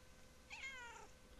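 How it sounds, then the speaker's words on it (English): A single soft, rising-and-falling meow from a house cat sounds once, faint and close, in an otherwise quiet room. "Down, kitty. Down."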